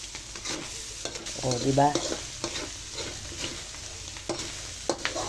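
Pork bopis fries in its own rendered fat with a steady sizzle and the repeated scrape of stirring; a voice briefly speaks near the start.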